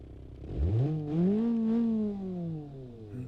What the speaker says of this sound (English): Sounds like a straight 4.